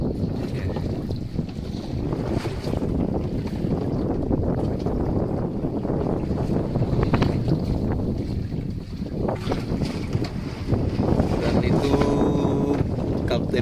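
Strong wind buffets the microphone in a continuous roar at sea by a fish aggregating device, gusting louder at times, with a faint hint of rain and water.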